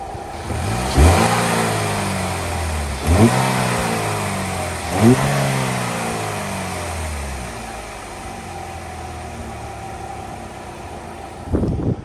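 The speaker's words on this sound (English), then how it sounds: "I'll rev this up a little bit" A 2008 Chevrolet Cobalt LS coupe engine is revved three times in quick succession, each rev climbing and then settling back toward idle, with one last short blip near the end.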